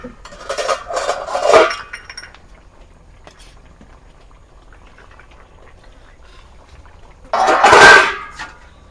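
Fried rohu fish pieces dropped into a potato curry in a cooking pot, with two loud splashy bursts of clatter and sizzle separated by a long quiet stretch.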